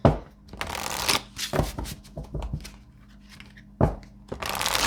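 Tarot cards being shuffled by hand to draw a card, a series of crisp riffling bursts with short pauses between them, close and fairly quiet, with no talking.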